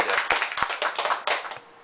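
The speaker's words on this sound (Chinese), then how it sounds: "咱甲掌声鼓励一下。" An audience at a talk about Taiwanese temples claps in a brief round of scattered, uneven hand claps that taper off toward the end.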